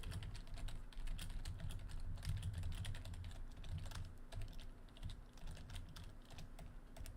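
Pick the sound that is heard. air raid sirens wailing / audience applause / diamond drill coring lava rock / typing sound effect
typing sound effect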